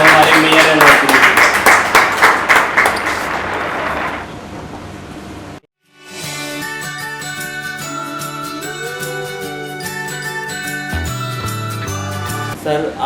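Loud broadband applause greets the North Delhi mayor Shri Jaiprakash Chhawri on a political interview show, dense clapping for about four seconds that fades, followed by a brief silence and then music.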